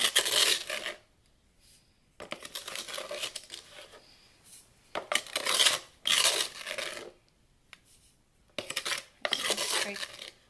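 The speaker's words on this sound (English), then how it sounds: "Scrape our sugar off the bottom." A measuring cup scrapes sugar off the bottom of a Tupperware container, making several gritty, rasping bursts of a second or so each, separated by short pauses, close and fairly loud.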